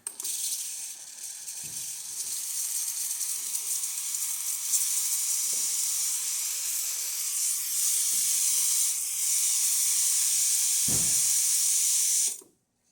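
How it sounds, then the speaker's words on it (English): Steam wand on a freshly serviced Breville Oracle espresso machine hissing steadily for about twelve seconds, a loud, even rush with slight fluctuations and a couple of soft knocks, then cutting off abruptly. "The steamer."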